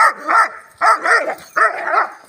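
A pit bull gives three loud, close barks in a row, each a sharp bark followed by a second yelping note, with short gaps between them.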